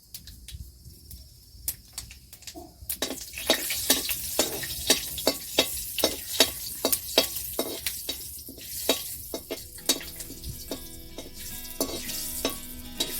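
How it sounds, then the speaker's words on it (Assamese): Panch phoron spices sizzling in hot oil in a pan for an Assamese prawn dish, with a quiet start before a loud, continuous crackle punctuated by sharp popping spurts and stirring clinks. "পাঁচফোৰণকেইটা অকণমান ভাজি লওঁ"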